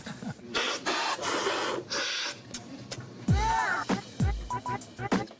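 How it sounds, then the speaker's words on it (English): Loud, vigorous slurps of coffee during a coffee cupping, several sharp sucking bursts with airy hiss, alternating with quieter pauses, close to the listener. "the coffee is sipped vigorously and loudly"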